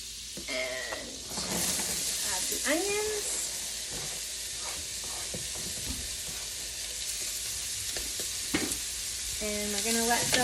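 Onions sautéing in butter in a pan for butter chicken, a continuous crackling sizzle with occasional stirring scrapes, while a person talks intermittently over it.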